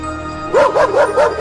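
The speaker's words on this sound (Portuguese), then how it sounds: "de repente os cães começam a latir e uivar" Farm dogs break into a run of loud barks and rising howl-like yelps, four strong bursts in steady rhythm close by, with no talk.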